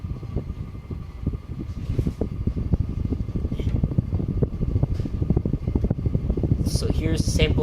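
A 52-inch SMC HDC52 ceiling fan runs on high speed, giving a close, continuous rumbling whir with a rattling, fluttery texture that holds steady, while a person speaks over it.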